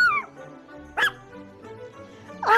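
A dog gives two short, sharp yelps or barks about a second and a half apart, heard over a soft background of music-like tones.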